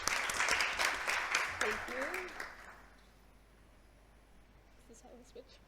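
An audience at a conference session on HIV and adolescent health claps for a couple of seconds. The applause is moderately loud, then fades into quiet room ambience, with a brief spoken word.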